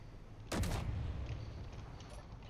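A tank's main gun firing in the video game Space Engineers: one loud, heavy blast that trails off into a long rumbling decay, with no talking.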